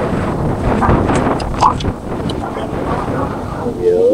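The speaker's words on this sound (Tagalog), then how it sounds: "Grabe na naman yung hangin dito." Strong wind buffets the microphone with a constant low roar, and a voice briefly speaks over the blustery noise.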